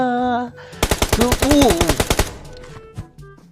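Rapid automatic gunfire from PUBG Mobile play, a loud burst of about fifteen evenly spaced shots lasting under two seconds, with game music and voices around it.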